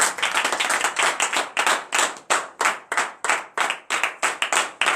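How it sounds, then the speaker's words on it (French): A congregation at a morning prayer service in Benin claps in acclamation, with dense, loud bursts of hand claps that come in rhythmic surges and brief pauses throughout. "donner une vive acclamation à l'Éternel en guise de reconnaissance"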